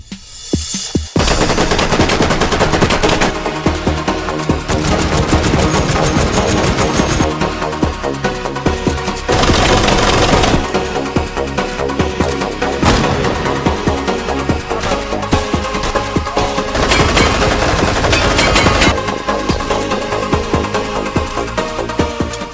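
Rapid automatic gunfire in the video game H3VR, long loud bursts of closely spaced shots broken by short pauses and single reports, close and punchy throughout.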